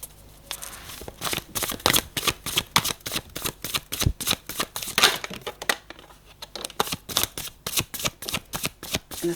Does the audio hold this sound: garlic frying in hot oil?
no